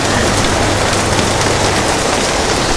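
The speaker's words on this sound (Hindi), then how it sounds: "देखा दोस्तों क्या बारिश हो रही है।" Heavy monsoon rain pours down in Delhi, a loud, dense, unbroken hiss of drops striking surfaces close by, with no voices over it.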